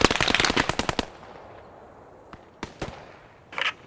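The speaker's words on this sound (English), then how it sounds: "Oh, but I see one shooting at me." Gunfire in the World War II shooter game Post Scriptum: a rapid loud burst of automatic fire, then a few scattered single shots and a distant short burst.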